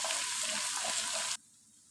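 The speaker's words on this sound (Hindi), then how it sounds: "2 चम्मच भर के हमने अदरक लहसुन का पेस्ट डाल देना है। इसको थोड़ी देर हम पकाएंगे हल्की आंच पर" Ginger garlic paste fries in hot oil on a low flame, giving a steady, close crackling sizzle that cuts off abruptly after a second or so.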